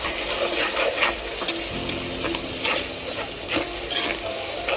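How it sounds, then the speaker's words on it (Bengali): Spice paste for a tangra fish curry with eggplant and potato sizzles softly in a pan while a spoon scrapes and stirs it in slow, repeated strokes, close and fairly quiet, with no talk. "সম্পূর্ণ পেস্টটা ঢেলে দিলাম, আস্তে আস্তে নাড়াতে থাকবে।"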